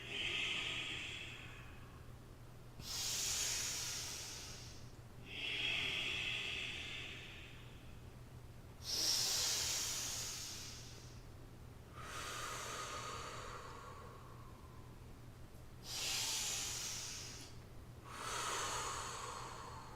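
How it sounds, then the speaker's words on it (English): Slow, deep Ujjayi yoga breaths alternate inhale and exhale in a steady rhythm, each breath a long, close, hissing rush of air through a constricted throat. "Exhale, Ujjayi breath here."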